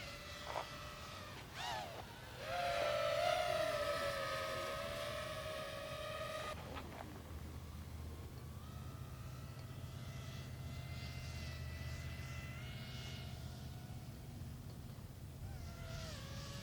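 A Turbo Timber 1.5m RC airplane in flight, its electric motor whine rising in pitch as it climbs away, then settling into a faint, steady distant drone outdoors.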